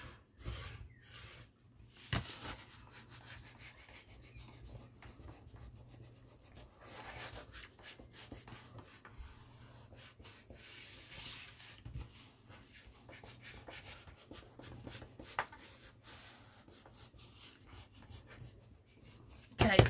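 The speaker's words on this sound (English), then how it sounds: "burnish it." Folded card for a mini album is burnished with repeated soft rubbing and scraping strokes, quiet and close, broken by a few light taps and handling noises, with occasional speech.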